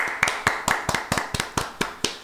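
A run of about nine sharp hand claps in a steady, even rhythm, applauding a channel reaching 500 subscribers, close and clear with no talking.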